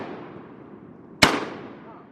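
A single 20 gauge shotgun blast on a cold morning wood duck hunt, one sharp loud crack with a short trailing echo against a low background of rustling and murmuring.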